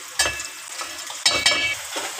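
Taro (arbi) pieces lightly frying in hot oil, with a steady close sizzle broken by a few brief stirring bursts and spatters over about two seconds.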